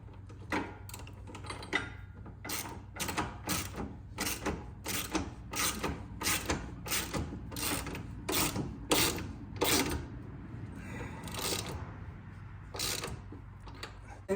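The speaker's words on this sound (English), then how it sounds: "Now we just gotta go back through and start tightening it all up." Bolts on a SuperATV 2-inch tow hitch receiver for a 2020 Honda Talon 1000X-4 are tightened with a hand ratchet, a steady string of quiet clicking strokes over a low background hum.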